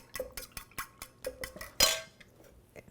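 A spoon clinks and scrapes against a bowl in quick, irregular strokes while sausage, carrots and celery stuffing ingredients are mixed, with one louder clatter near the middle.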